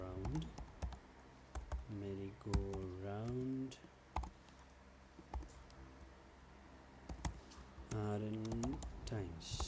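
Rapid keyboard typing while code is entered into the PictoBlox Python editor, crisp close clicks in bursts under a person's talking.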